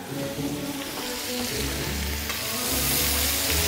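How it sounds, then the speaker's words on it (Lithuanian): Cabbage frying in a pan, a close, steady crackling sizzle that swells louder toward the end, with low hum in the background and no talking. "aš einu pažiūrėsiugi, kaip ten kepa mano kopūstai"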